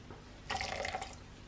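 Hot water squeezed and twisted out of a cloth compress, a short watery splatter and trickle about a second long, close and fairly quiet, with no voices.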